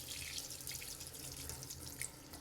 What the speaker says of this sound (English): So we just wash this in the running water